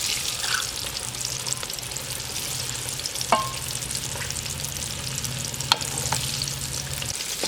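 Chicken wings deep-frying in hot oil, a steady bubbling sizzle throughout with a low burbling hum and a few sharp clicks of utensils against the pan.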